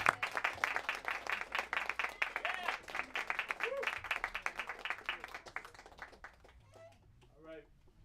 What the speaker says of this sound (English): Let's clap for Marty and Sam